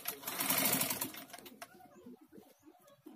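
Sewing machine stitching a seam on dress fabric, a loud continuous whirring burst for about a second and a half that cuts off, followed by quieter handling noises.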